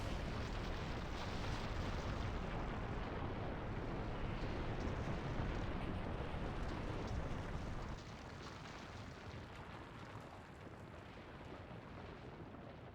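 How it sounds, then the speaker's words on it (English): Fireworks bursting in the video game NieR: Automata, a dense, continuous rumbling roar of overlapping blasts that holds loud for about eight seconds, then eases to a slightly quieter sustained rumble. "Ah, fireworks."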